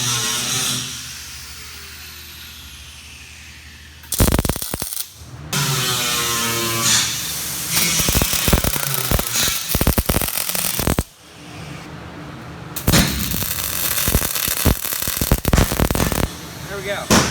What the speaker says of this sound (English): then I'll go ahead and finish welding it on